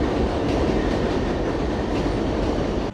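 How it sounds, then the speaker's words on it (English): A New York City 7 subway train rumbles past on the far track toward Hudson Yards, a loud, steady roar of wheels and rail noise that fills the whole moment, heard alone. "There goes another train on the other side."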